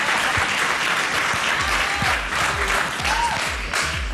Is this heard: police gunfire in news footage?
no